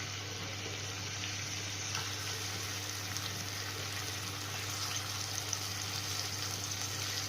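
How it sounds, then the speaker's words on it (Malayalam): Ground masala paste hits a well-heated pan for a homestyle fish curry, giving a steady, soft sizzling hiss over a low kitchen hum, with no voices. "അതിലേക്ക് ഞാൻ ഇനി കുറച്ച് അരപ്പ് കോരി ഒഴിക്കാൻ പോകുക"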